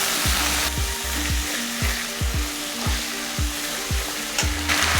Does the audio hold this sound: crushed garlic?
yes